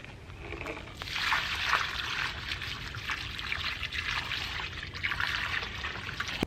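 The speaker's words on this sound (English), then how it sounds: "dump about a 5-gallon bucket of water on each one of these" A 5-gallon bucket of rainwater is poured onto freshly planted fruit trees in winter, making a close, continuous splashing gush that runs for several seconds outdoors.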